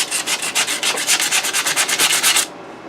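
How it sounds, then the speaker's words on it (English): Sandpaper rasps back and forth across a knife handle to cut grooves, about fifteen quick, even rubbing strokes close up, then stopping abruptly. "Take my sandpaper and cut some grooves in it."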